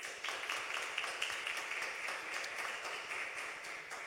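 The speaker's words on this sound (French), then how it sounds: "chers jeunes, applaudissez-vous vous-même" A crowd of young people at a youth talk event applauds steadily, a dense, even wash of many hands clapping at moderate distance for several seconds with no speech over it.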